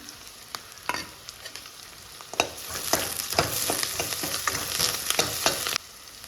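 Onions sauté in a pan, a soft sizzle under repeated scraping and clattering strokes of a spoon, busiest in the middle stretch, with no one talking.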